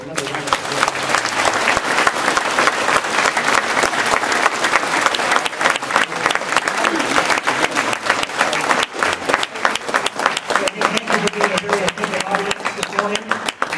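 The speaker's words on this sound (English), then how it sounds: "So I think they all deserve a round of applause for another one." At a school flag ceremony at Foxcroft Academy, an audience applauds student speakers with sustained, crisp clapping from many hands, steady throughout with faint voices beneath.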